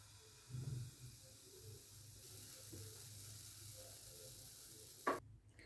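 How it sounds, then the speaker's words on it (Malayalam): Pancake batter poured into a hot pan brushed with oil or butter, cooking over low to medium flame, gives a quiet, steady sizzle with a brief scrape near the end. "ഇനി നമ്മൾ എടുത്ത് വെച്ചിരുന്ന ബാറ്റർ ഒഴിച്ചു കൊടുക്കാം."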